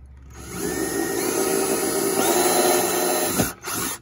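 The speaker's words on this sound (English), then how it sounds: "when you're drilling fiberglass, if you're in an area you care about, you always back drill it so the fiberglass doesn't chip" A power drill bores into the fiberglass dash of a boat, whirring up to a loud, steady whine with a rising pitch, then briefly stopping and restarting near the end.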